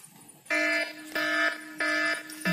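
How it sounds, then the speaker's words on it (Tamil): An Android phone's anti-theft app alarm sounds after the phone is touched, giving three loud, even electronic tone bursts of about a third of a second each, separated by short gaps, with the start of a fourth cutting in. "இப்போ நான் கையை வச்சோன்னா உங்களுக்கு அலாரம் அடிக்கும்."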